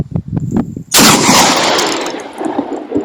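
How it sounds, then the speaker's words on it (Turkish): A Doxcarms TK1 Professional Tactical shotgun with a 51 cm barrel, fired at a bottle from 5 metres: one very loud close blast cracks out after a second of handling noise, then rolls away in a long echoing decay outdoors. "Şişemize 5 metreden bir atış yapıyoruz."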